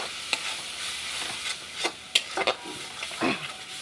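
Onion, ginger, green chili and tomato paste stirred in a pan, with a soft steady sizzle and several distinct scraping strokes of the spoon against the pan, close and moderately loud, no talking.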